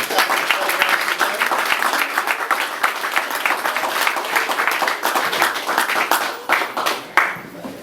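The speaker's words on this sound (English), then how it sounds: "give Manny Fresh a round of applause." A crowd at a New Orleans gathering claps steadily and loudly for several seconds, the applause swelling and then tapering toward the end.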